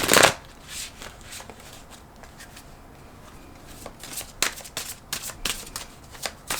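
Oracle cards being shuffled by hand, a quick loud riffle at the start followed by softer intermittent slides, taps and flicks of cards, with no voice.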